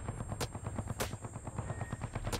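Rapid automatic gunfire from the first-person shooter Blacklight: Retribution rattles in a steady stream, punctuated by a few louder sharp shots, loud and close with no talking.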